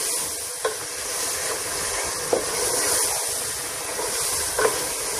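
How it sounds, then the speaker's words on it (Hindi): Mutton fries over a high flame in hot oil with salt, chilli, ginger and garlic for a Hyderabadi mutton tahari, giving a steady, loud, hissing sizzle with a few faint stirring clinks. "इसमें जो नमक मिर्ची अदरक लहसुन जो डाले उसको वो भी अच्छे से फ्राई होता है"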